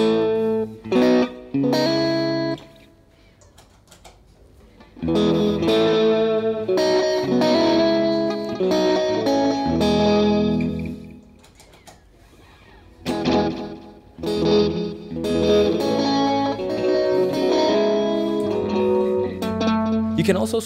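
An electric guitar runs through a Jackson Audio effects pedal as gain levels are cycled, giving bursts of distorted, reverberant chords and notes broken by short silences between each setting.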